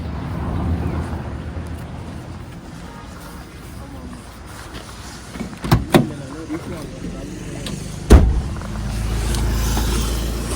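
Maruti Alto car travelling a mountain road near Malana village, a low engine and road rumble running throughout, with a few sharp knocks and thumps midway and people talking over it.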